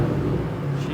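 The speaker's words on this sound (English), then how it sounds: "And it is idling perfectly." A supercharged Cobra engine idles on a dyno with a steady, smooth low rumble, loud and close, holding an even tone.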